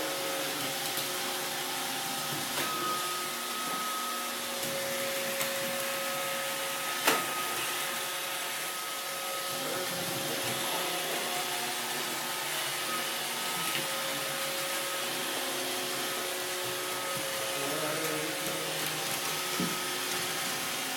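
A Roomba robot vacuum cleaner runs steadily indoors, a continuous whirring hum with a faint tonal whine and small bumps, fairly close and without any talk over it.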